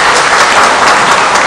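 A church congregation claps during a Sunday worship service, a dense, loud, even burst of many hands with no pauses.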